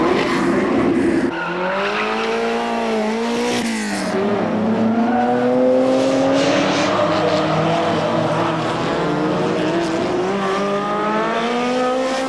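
Ferrari 308 GTB racing on a road rally, engine note rising and falling through gear changes with a tyre squeal, loud and continuous as it passes close by.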